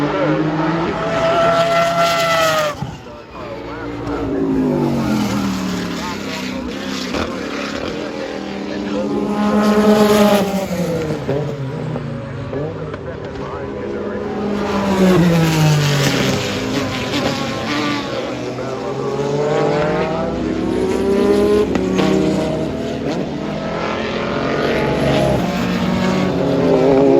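Historic race cars, including a Mazda 767B, Historic F1 and Trans Am machines at a Rolex Motorsports Reunion, roar past in repeated loud engine sweeps with rising and falling pitch, under continuous race commentary.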